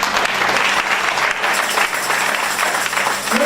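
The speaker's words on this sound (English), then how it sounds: "Clap for Jesus." A church congregation applauds during a prophetic sermon, a full steady wash of many hands clapping together at moderate volume throughout.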